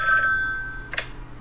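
An electronic phone ring tone sounds in a Talking Ben app game: a short bright trill followed by a faint click, clear and close.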